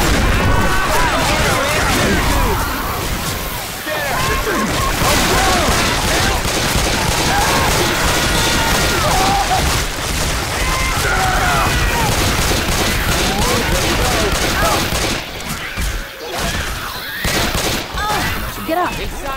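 Dense, nearly continuous gunfire from Left 4 Dead 2 versus play fills the scene with rapid overlapping shots and impacts, loud and close, while players shout over it.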